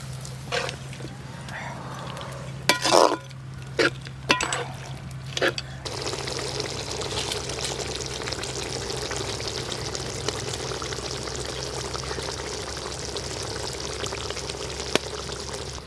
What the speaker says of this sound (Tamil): கறி நல்லா கொதிச்சிருந்தா அப்படி டிப்பு டிப்புன்னு சவுண்டு வருது பார்த்தீங்களா?